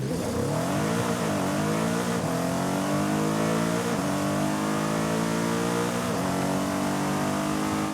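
A BMW M5 CS engine in the Forza Horizon 5 racing game revs hard and continuously, climbing through the gears with brief dips at each shift, loud and close with no talking.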